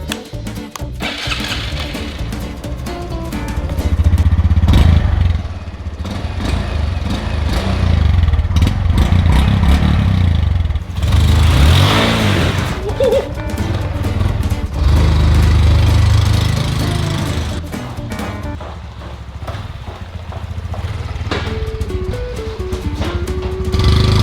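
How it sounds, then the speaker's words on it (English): Honda CT125 motorcycle fitted with oversized tires starts cold and idles, then revs and rides by, a loud rough engine rising and falling with a faint rubbing from the front tire, no talking. "cold start, drive by, so you guys can actually hear the rubbing in the front."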